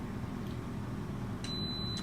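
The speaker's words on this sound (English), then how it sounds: "It will beep momentarily." An Instant Pot pressure cooker gives a single short, high electronic beep near the end, after a stretch of low steady room hum.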